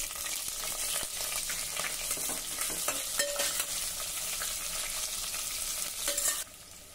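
Cashews and onion frying with dry coconut in a hot pan, a steady sizzle with scraping stir strokes throughout, close and fairly loud, no voices.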